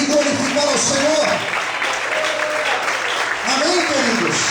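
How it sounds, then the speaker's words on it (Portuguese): A church congregation claps steadily throughout while voices call out and sing over the top, the applause forming a continuous wash beneath the louder vocal sounds. "Quantos podem aplaudir e glorificar ao Senhor?"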